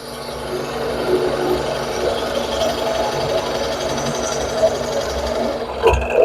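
A drill bores a 1.5 inch hole, giving a steady, close mechanical whirring with rhythmic chatter that runs continuously, then shifts briefly near the end.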